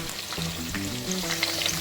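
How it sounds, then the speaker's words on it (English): Turkey deep-frying in oil: a dense, continuous sizzle and crackle heard up close, with no one talking. "I'm going to leave this turkey in the oil to fry till it's all golden brown"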